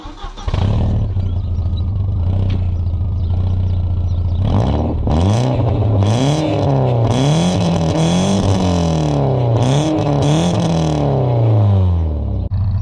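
An Audi car's petrol engine cranks and fires up, revving loudly a few times before settling into a rumbling, throaty idle with occasional blips of throttle.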